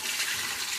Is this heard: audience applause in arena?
no